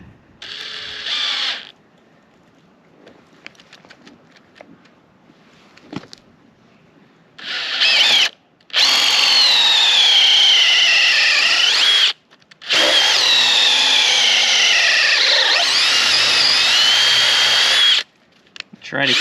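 Power drill boring holes for mounting a farm gate: a few short bursts and clicks, then two long, loud, continuous whirring runs with the pitch shifting as the bit bites, separated by a brief pause.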